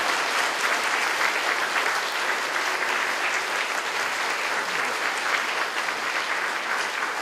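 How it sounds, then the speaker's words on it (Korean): Crowd applause at the opening ceremony of a provincial mental health center in Jeollabuk-do: a continuous, even roar of many people clapping, sustained at a steady level throughout. "큰 박수를 격려해 주시기 바랍니다"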